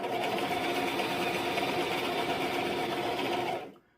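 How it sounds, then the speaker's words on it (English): Sewing machine running in a steady, fast mechanical whir for about three and a half seconds, close and even, then stopping abruptly. "when your sewing machine is acting up, that is a terrible feeling"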